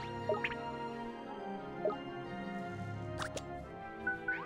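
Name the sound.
Water Bomb magic spell in video game Ni No Kuni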